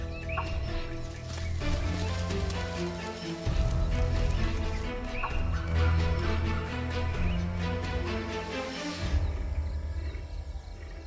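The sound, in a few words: sambar deer alarm calls and foot stamping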